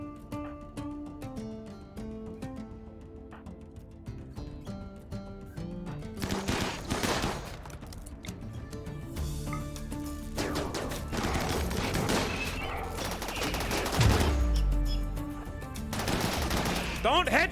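Repeated gunfire from snipers and other weapons in the RimWorld video game, sharp shots and bursts layered over game music, growing denser and louder toward the end.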